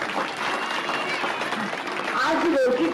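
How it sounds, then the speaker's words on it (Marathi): An audience claps for the teachers at a school event, a dense, sustained burst of applause lasting the whole moment, with crowd noise mixed in. "तर एकदा टीचरसाठी सुद्धा आपण जोरदार टाळ्या वाजवूया।"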